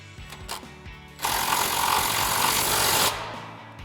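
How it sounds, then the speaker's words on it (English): A 3/8-inch impact gun with a 16mm socket and extensions tightens the shock mounting bolts on a Jeep Wrangler JK: one loud, sustained buzzing burst of about two seconds, with quieter clicks and handling noise before and after. "now I'm going to take my 16mm with some extensions on my 3/8 gun, and I'm going to get up in here and tighten these two up"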